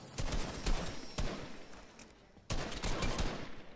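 Bursts of automatic gunfire rattle in a squad shooter game, two dense volleys separated by a short lull, moderately quiet and close, with no talking.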